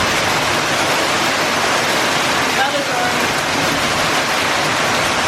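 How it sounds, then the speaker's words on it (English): Hail falls on a car in a loud, steady wash of dense pattering that blankets everything, heard from inside at close range. "Yep, here comes the fucking hail. Yep, hailing."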